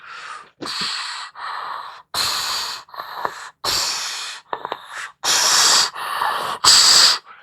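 A voice imitates heavy respirator breathing, a series of loud hissing inhales and exhales in an uneven rhythm, close and without talk.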